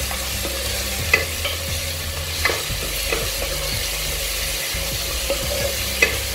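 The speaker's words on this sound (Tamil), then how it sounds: "இந்த இஞ்சி பூண்டு பேஸ்ட் ஆட் பண்ணி சிம்மில் வச்சு வதக்கிடலாம்" Ginger garlic paste sautés in a pan over a low flame for coconut milk rice, a continuous close sizzle with occasional spoon taps and scrapes as it is stirred, with no voices.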